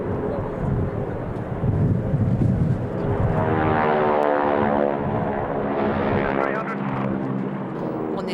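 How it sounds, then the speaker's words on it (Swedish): A US Air Force propeller trainer aircraft flies past at an air show, its engine a loud, sustained droning roar that swells and holds throughout, with a voice speaking underneath. "det var det här flygplanet som man lärde sig flyga på innan man gick över på"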